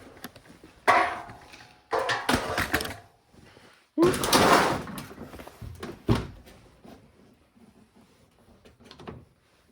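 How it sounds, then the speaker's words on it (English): Door of a 2017 Subaru Impreza being opened during front bumper and fender removal, with several sharp clunks and rattles from the latch and panel at close range, separated by short quiet gaps. "Then we gotta open the door."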